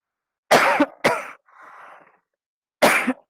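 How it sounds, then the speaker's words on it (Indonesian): Three sharp coughs from a single person, then a short softer throat-clearing rasp, with a pause before the final cough, close and fairly loud during a training session. "mohon izin, batuk dulu nih"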